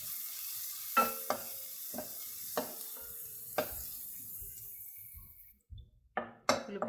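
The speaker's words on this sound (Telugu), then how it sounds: "సన్నగా తరిగి పెట్టుకున్న వెల్లుల్లిపాయలు, అలానే సన్నగా తురుముకున్న పచ్చిమిరపకాయలు, అలానే చిన్న చిన్న ముక్కలుగా కోసుకున్న ఉల్లిపాయ ముక్కలు కూడా వేసుకొని ఫ్రై చేసుకోవాలి" Garlic, green chilies and onions frying in a pan for ragi soup, a steady soft sizzle broken by several sharp stirring scrapes and clinks of a spoon against the pan.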